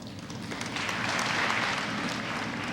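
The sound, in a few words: applause from school graduation audience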